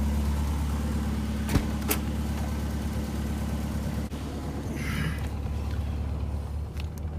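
A vintage Morris Minor 1000 engine running, a steady low idling rumble close by with a couple of sharp knocks and faint background sounds over the top.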